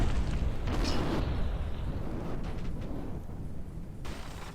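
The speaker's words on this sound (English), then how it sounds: "Another fairly large explosion there." A large explosion in a robot-battle video game, heard as a long, sustained, rumbling roar with noisy bursts, fairly loud and steady throughout without any talking.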